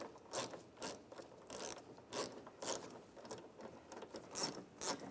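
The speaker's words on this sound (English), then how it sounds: "Now I'm going to use a T20 socket" A ratchet with a T20 socket loosening a screw on a 2013–2016 Dodge Dart exterior door handle, about a dozen quick close clicking strokes in an uneven rhythm, quiet and alone.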